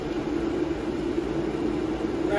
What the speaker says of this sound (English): I have the heater blowing